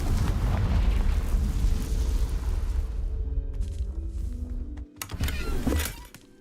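Fiery Confringo spell explosion in the Hogwarts Legacy video game, a loud roaring burst that slowly fades, followed by a second brief blast near the end.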